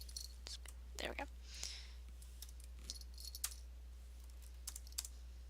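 Keys clattering on a computer keyboard in short irregular bursts of clicks, close and fairly quiet, over a steady low hum, with soft whispered speech.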